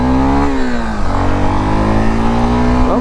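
A Honda Sahara motorcycle engine revs steadily up close, its pitch dipping and climbing again in a continuous, loud mechanical drone.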